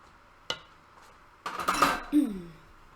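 Crack pie crumb stirred with melted butter in a bowl, giving a sharp knock at the start, then a burst of scraping and clinking of utensil against the bowl, close and fairly loud.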